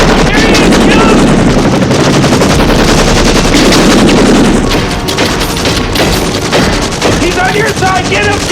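Loud, sustained machine-gun fire rattles from a helicopter in the 1993 film Sniper, with rapid continuous bursts and booming impacts under shouting voices.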